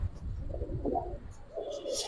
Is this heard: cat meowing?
no